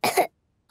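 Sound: cough

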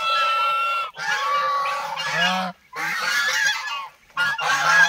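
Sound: ducks roaming in a garden nursery

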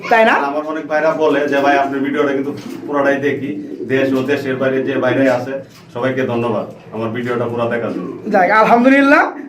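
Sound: pigeons cooing

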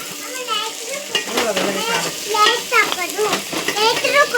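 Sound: tempering frying in oil with mustard seeds, cumin, garlic, chillies

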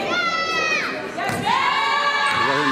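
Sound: basketball crowd shouting

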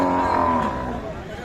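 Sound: cow mooing at a livestock market

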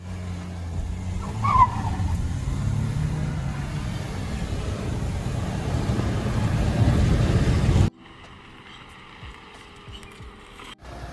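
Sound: Mahindra XUV300 petrol and diesel cars in drag race

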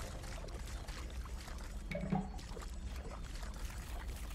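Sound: drinking water in the video game Grounded

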